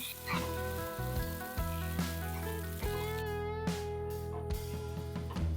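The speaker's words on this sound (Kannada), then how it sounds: "ಹಾಗೆ ಒಂದು 1/4 ಗ್ಲಾಸಷ್ಟು ನೀರನ್ನು ಹಾಕ್ಕೊಂಡು ಇದನ್ನು ಬೇಯಿಸ್ಕೊಳ್ಳೋಣ" Masala corn with green paste and a splash of water cooking in a pan, bubbling and sizzling steadily close up, with intermittent clinks of a utensil stirring against the pan.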